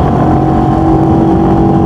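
A CF Moto NK400 or SR250 motorcycle engine pulls hard in third gear, holding a loud, steady, buzzing drone at close range for a short stretch.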